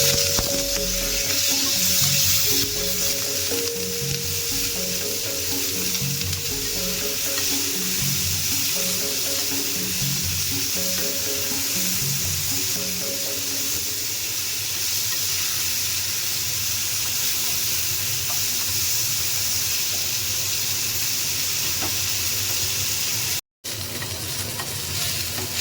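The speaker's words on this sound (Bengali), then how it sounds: "বেগুনগুলোতে একটু হলুদ নুন দিয়ে দিই, আর ওগুলোকে একটু হালকা করে ভেজে নিই।" Eggplant pieces seasoned with turmeric and salt fry in a pan, giving a steady close sizzle with repeated stirring scrapes through the first half before settling into continuous frying noise.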